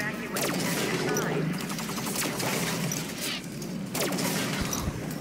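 Rapid gunfire in the Halo 5 Guardians video game, sustained bursts of shots with a couple of sharp louder volleys, loud and close, with game sounds blended in.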